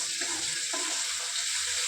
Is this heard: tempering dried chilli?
yes